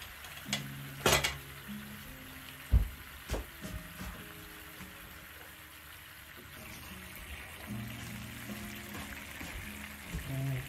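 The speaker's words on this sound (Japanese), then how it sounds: "沸騰してきたらちょっと中火ぐらいにして、はい、とろみがつくまで煮込んでいきます。" Sauce for hamburg steak simmers and bubbles in a pan on medium heat. A soft, steady sizzle runs throughout, broken by a few clinks of a utensil against the pan. The whole sound is quiet and close.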